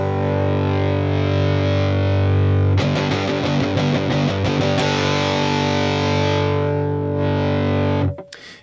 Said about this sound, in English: If I just hold the chord and turn the gain up, you can hear all those harmonics coming out.